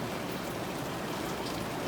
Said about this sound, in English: it's rain, it's always rain